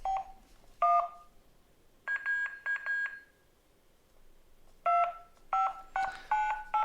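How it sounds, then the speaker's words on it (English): A Motorola ETACS bag phone plays its dialing tones as a series of short electronic key beeps in irregular bursts with quiet gaps between them. "So you can see we can dial a number in there."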